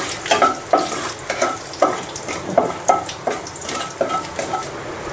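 Dry red chillies and nigella seeds temper in hot white oil in a kadai, crackling and sizzling close by as a spoon scrapes the pan in a steady, repeated rhythm of stirs.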